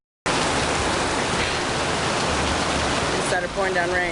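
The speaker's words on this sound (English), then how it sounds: "pouring down rain" Heavy rain pours down in the Philippines, a dense, loud, steady hiss that starts abruptly and holds throughout, with brief faint sounds over it near the end.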